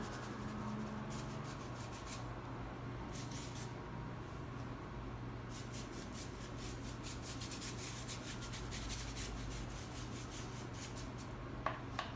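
Paintbrush rubbing acrylic paint across canvas while blending a background, a steady soft bristle scrubbing that continues throughout, fairly faint and close, with brief sharper strokes near the end.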